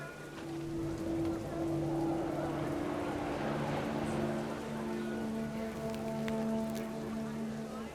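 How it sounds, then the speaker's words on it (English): Steady heavy rain in the video game What Remains of Edith Finch patters densely on a surface, a constant wash of noise with a low droning hum underneath. "The rain came down in buckets then"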